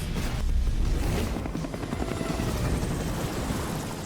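Helicopter in an animated Devil May Cry episode, a loud continuous rotor thrum with dense low-end roar, steady throughout and mixed with action sound.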